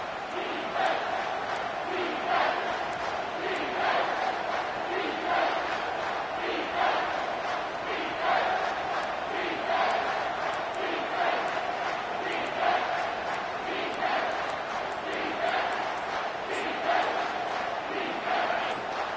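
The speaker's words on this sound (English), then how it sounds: "Third down, and this crowd is bringing down the house." A packed stadium crowd roars on third down at a football game, a dense and continuous wall of cheering and chanting with rhythmic surges, loud and sustained throughout.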